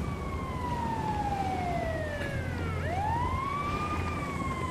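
A wailing ambulance siren in a video game sweeps down and back up in pitch over a steady low engine rumble, heard from a moderate distance.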